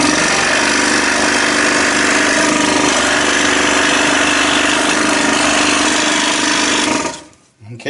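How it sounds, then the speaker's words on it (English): A scroll saw cuts through wood with a loud, steady buzzing rattle that runs nonstop for about seven seconds, then stops abruptly near the end. "drilled a little hole, put my blade in, and now I'm going to cut."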